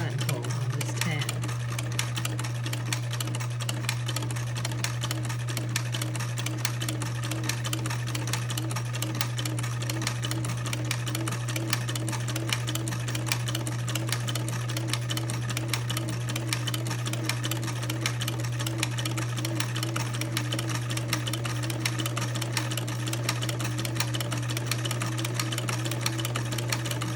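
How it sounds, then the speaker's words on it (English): A sewing machine stitches a buttonhole on a fabric tab, its steady rapid needle chatter and motor hum running continuously at close range, with speech over it. "sew a buttonhole on this tab."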